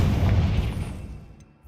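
A Confringo blasting spell erupts in Hogwarts Legacy, a deep booming explosion that swells at once and rumbles loud before fading over a second or so.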